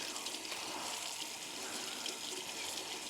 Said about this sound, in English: taking it off that frame allows you to rinse it and get it really clean.